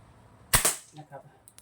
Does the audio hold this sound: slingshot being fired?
yes